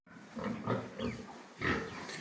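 Pigs in a farm shed grunt and snort in several short, close bursts, with brief pauses between them and no talking.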